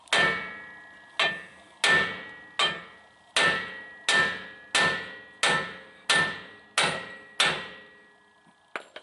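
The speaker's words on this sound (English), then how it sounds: "You want to hit this yoke" About ten sharp, evenly spaced hammer blows ring out against the slip yoke of a Ford F150 drive shaft, each strike a bright metallic clang that decays before the next, close up with no talk.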